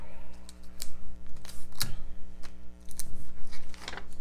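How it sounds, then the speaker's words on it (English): Tape is pulled and pressed onto a paper sewing pattern in a series of close, sharp rips and crinkly taps against a steady low hum, with no talk. "I'm going to tape this on the back."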